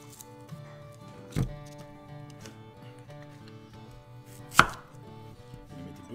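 A knife cutting through half an onion on a board, two distinct chops about three seconds apart over quiet background hum and faint music.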